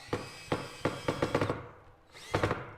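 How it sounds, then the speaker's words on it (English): A power drill with a Phillips head bit drives a screw through a wooden angle into the underside of a DIY squatty potty top. It gives a series of short, close whirring bursts, then a pause and a final burst. "As you can hear, the drill bit doesn't fit perfectly, but it's working nonetheless with a Phillips head bit."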